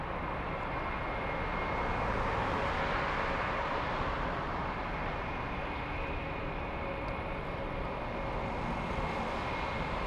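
An Airbus A330neo airliner at Frankfurt airport gives off a steady, loud jet engine roar that holds at an even level throughout, with no talking.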